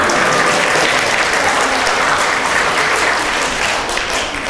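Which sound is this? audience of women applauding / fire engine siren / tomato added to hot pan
audience of women applauding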